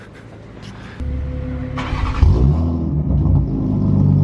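A drift car fresh from an engine swap cranks and fires up after a second of quiet, then idles with a deep rumble and rises through loud revs that grow steadily toward the end.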